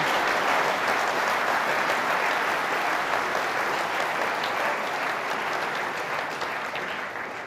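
Applause from the crowd watching a match at the other table of the 2018 World Snooker Championship, steady sustained clapping from a large audience at moderate distance, fading slightly toward the end.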